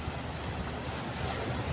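Ocean waves wash and churn steadily, a broad hissing surf with wind buffeting the microphone and no one speaking.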